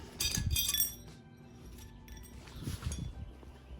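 Long bolts come out of the battery bracket on a 2012 Range Rover Sport, giving a few close, faint metallic clinks and rattles, with a louder burst of clinking at the start and a couple more later.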